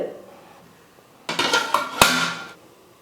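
Metal idli plates and pots clank and clatter close by during a short burst of kitchen handling while cholam (sorghum) idli batter is poured, with one sharp metallic strike standing out near the end.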